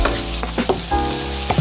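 Onion, garlic and pepper sautéing in a pan for tofu with kangkong, a close sizzle punctuated by a few sharp scraping and stirring knocks, brief and fairly loud.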